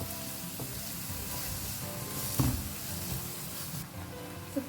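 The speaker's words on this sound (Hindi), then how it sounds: "फ्लेम को हाई रखिए और इसे फ्राई करें" Paneer cubes fry in a pan over a high flame, giving a soft, continuous sizzle with occasional light spatters and a brief clatter partway through.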